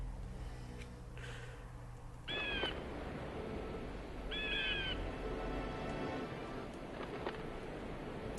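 Seagull cries from the Alundra video game, two short squawking calls at middle distance over a steady ambient game background of wind-like noise and low hum.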